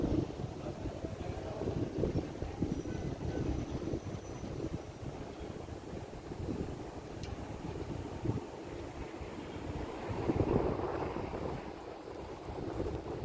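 Wind on a balcony rushes steadily against the microphone as a low, broadband buffeting roar that swells and eases, fairly faint overall and with no one talking.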